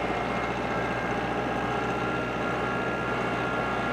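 A compact tractor fitted with pallet forks putters along a stone driveway carrying a roughly 15-foot log balanced across the forks, its engine a steady, close, unbroken drone with no voices.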